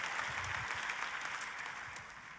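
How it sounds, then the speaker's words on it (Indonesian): A church congregation gives a sustained burst of dense clapping at moderate distance, continuing evenly and easing slightly toward the end. "Tepuk tangannya lebih dahsyat lagi buat Yesus Tuhan kita."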